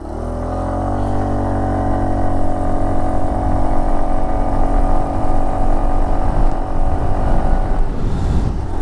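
A 2021 Aprilia SXR160 scooter being ridden on rough gravel, its engine giving a steady, close mid-pitched drone with wind rush throughout and no talking.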